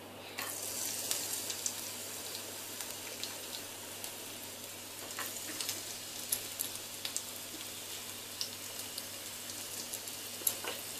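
Cloves, a cinnamon stick, garlic and ginger fry in hot oil in a pan, giving a steady, close sizzle with small crackles and pops and no one speaking.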